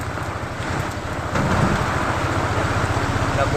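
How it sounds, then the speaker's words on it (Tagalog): Heavy rain during a drive home makes a dense, steady roar that swells slightly louder partway through, with no one talking. "Nabutan ng malakas na ulan."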